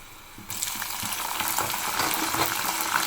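Dried red chilies drop into hot oil and set off a sudden loud sizzle after a brief quiet moment, then a steady crackling fry that continues without voices.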